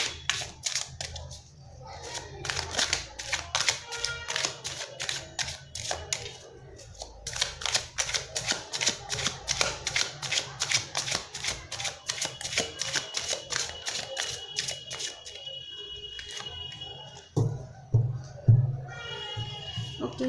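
Tarot cards are shuffled in long runs of rapid, crisp clicking and riffling close by, with a short pause partway through and a few soft knocks near the end.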